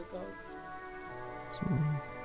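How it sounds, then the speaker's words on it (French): Steady rain falling in the video game Disco Elysium, a continuous wash of patter with a brief low rumble near the end. "It's raining again."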